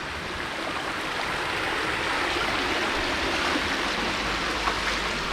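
Stream water pours steadily over a weir onto a smooth concrete floor, a dense, continuous rushing wash that stays loud and even throughout with no voices.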